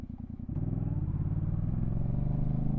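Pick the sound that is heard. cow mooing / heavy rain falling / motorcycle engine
motorcycle engine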